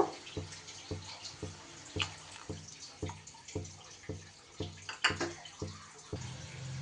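Water splashes as a spice bowl that held ground poppy seed and mustard paste is rinsed and the water poured into a cooking pan, with soft, rhythmic pulses close by and no talking.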